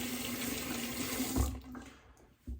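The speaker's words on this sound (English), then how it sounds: "did a cold water rinse to take off all the lather" Tap water running into a sink for a cold rinse after shaving, a steady close hiss of flow that cuts off partway through, followed by faint clatter and a brief splash.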